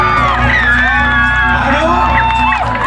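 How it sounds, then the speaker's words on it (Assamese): A crowd at a Rabha Hasong cultural event in Goalpara cheers with whoops and shouts in a steady, loud roar, mixed with voices. "সকলোৱে তেখেতৰ কাৰণে এটা হাত চাপৰি যাব লাগে"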